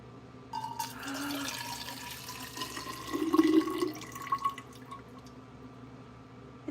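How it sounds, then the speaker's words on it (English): Water poured from the pitcher spout of a handmade ceramic mug, a short splashing trickle lasting a few seconds that swells briefly, then thins into a dribble at the end, close and fairly quiet. "I'm just going to pour it right back into the"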